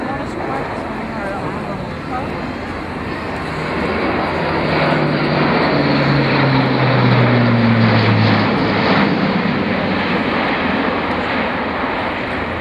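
An Airbus A400M with four TP400-D6 turboprops of 11,000 shaft horsepower each roars through a flying display at an air show, a loud, continuous drone with falling propeller tones as it passes, while a commentator talks over it.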